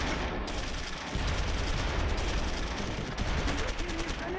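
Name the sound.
machine gun fire in video game Close Combat III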